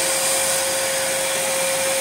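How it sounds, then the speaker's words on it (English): A Dyson DC17 upright vacuum cleaner with a 1400-watt US motor runs steadily with its brush roll stopped, giving a loud, constant airy whoosh with a faint steady whine and no speech. "Have a listen when the brush roll stops."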